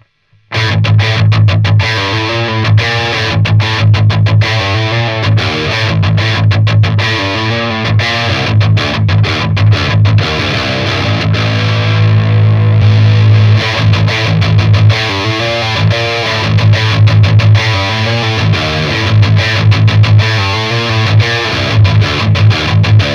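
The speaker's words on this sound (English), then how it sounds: "Let's try it with a baritone and some lower notes." Low notes on a baritone guitar played through a Bogner Ecstasy Mini amp, heavily distorted and loud, with sustained chugging riffs and ringing chords that carry on steadily throughout, with no talking.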